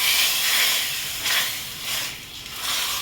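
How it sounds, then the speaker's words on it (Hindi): Steady hissing sizzle of tempering spices hitting hot oil for raw mango kadhi, with surges of crackle swelling and fading over a few seconds, close by and fairly loud. "इसमें मैं तड़का लगा रही हूँ"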